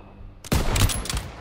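Gunfire from a World War II firefight in Call of Duty WW2, a sudden loud burst of overlapping shots and rattling fire that starts after a quiet lead-in and keeps going as a dense fusillade.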